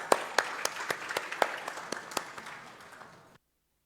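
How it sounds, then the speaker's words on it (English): Audience applause for panel speakers at an international banking forum session: a burst of clapping with sharp individual claps on top, holding steady and then tapering off to silence after about three seconds. "I invite you to give a round of applause to our panel speakers"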